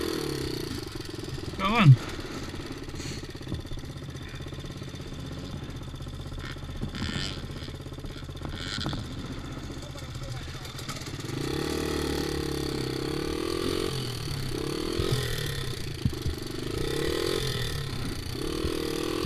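A motocross dirt bike on a hill sputters briefly, then settles into a low, uneven idle that swells in the second half, with a short spoken remark near the start.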